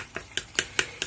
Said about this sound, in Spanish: Todo esto hay que batirlo muy bien